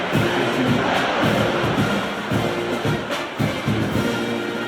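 Football stadium crowd roaring steadily before a kickoff, a dense, loud wash of cheering and shouting with a few swelling peaks, no pauses.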